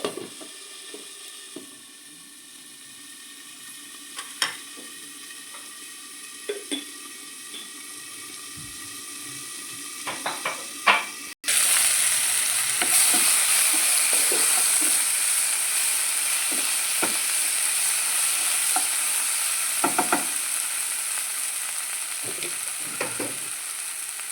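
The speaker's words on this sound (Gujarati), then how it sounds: "હવે આપણે આ બધું તળવા દઈશું" Tomatoes and spices fry in a pan for spinach khichdi, a steady close sizzle with occasional clinks and stirring scrapes that grows louder partway through and continues without talk.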